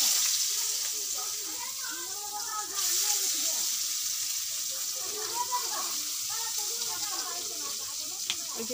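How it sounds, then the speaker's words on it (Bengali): Chopped onions sizzling in a kadai after frying fish, a soft, steady hiss of hot oil heard at a distance throughout, with someone talking faintly over it. "এই যে দেখুন পেঁয়াজ কুচিগুলো দিয়ে দিচ্ছি।"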